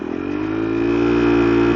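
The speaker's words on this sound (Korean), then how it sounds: "엔진이 이렇게 올라가죠" A KTM Duke 390 engine revs up with the clutch pulled in, a loud close whine that climbs steadily in pitch and holds high, with no talking.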